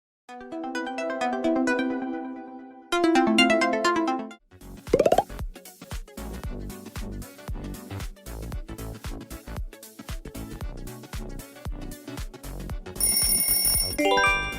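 An HTC smartphone ringtone plays as a melodic electronic tune, opening with bell-like chime phrases and then moving into a busier rhythmic section with steady beats, clear and close throughout.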